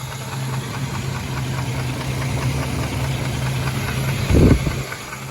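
A Chevy S-10 engine idles, humming steadily with a faint, regular top-end ticking running through it, and a brief louder thump near the end.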